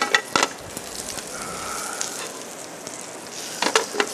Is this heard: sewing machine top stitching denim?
no